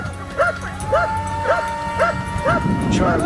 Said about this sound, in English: The hunting dogs diligently continue their work, sniffing out and locating the wild hog's hiding spots.